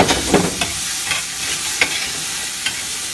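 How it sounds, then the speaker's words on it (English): Mirepoix vegetables sweating in a pan for a fish pie sauce, a soft steady sizzle broken by a few sharp scrapes and clicks of stirring, close and alone. "Sweating off the mirepoix"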